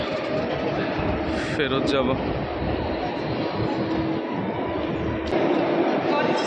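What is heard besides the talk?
train at London Paddington station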